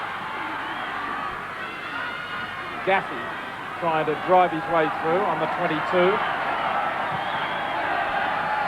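A rugby league stadium crowd at a 1990 Canberra Raiders versus Cronulla Sharks match forms a continuous low roar under a commentator's steady play-by-play, swelling slightly as play builds.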